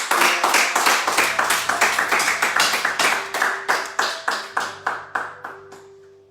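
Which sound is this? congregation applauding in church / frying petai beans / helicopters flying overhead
congregation applauding in church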